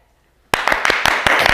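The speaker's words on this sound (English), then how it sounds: "We should do applause." A few people clap after half a second of silence, a quick run of sharp, close hand claps in a small room during a live watercolor painting session.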